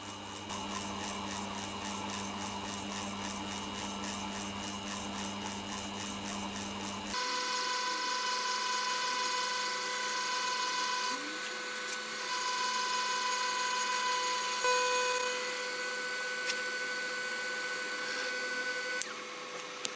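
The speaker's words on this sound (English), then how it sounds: "I'll now start to drill the hole." A drill bores a hole through a steel mill spindle, giving a steady machine whine with tonal harmonics that shifts in pitch partway through and then runs on evenly, loud and continuous.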